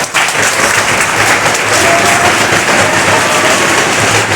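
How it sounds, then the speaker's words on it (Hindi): Loud, dense applause from a large crowd at a coaching institute event for JEE/NEET candidates in Gorakhpur, steady and sustained throughout with no pauses. "और जोर से तालियां बजनी चाहिए"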